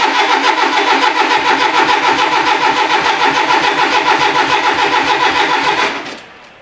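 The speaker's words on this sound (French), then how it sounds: "je mets le serre-pilote, il va démarrer" A 1982 Renault Trafic with a carburettor, running on E85 ethanol fuel, cranks with a loud, rapid rhythmic starter churn for about six seconds, then the sound drops away abruptly, close to the engine.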